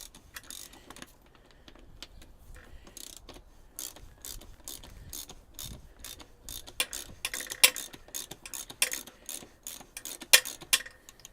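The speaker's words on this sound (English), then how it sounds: "See, now we're ratcheting away." A ratchet wrench clicks away while the swing arm is removed from a Honda VFR800 motorcycle, quiet rapid clicking in bursts that grow louder and more insistent toward the end.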